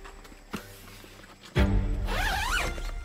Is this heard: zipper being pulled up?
yes